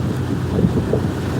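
A boat gathering speed at sea, a steady broad rush of water and wind with a low engine drone, continuous and close, with no voices.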